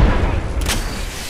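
A frag grenade going off in a video game gives a deep rumbling boom that rolls on for about a second, loud and close.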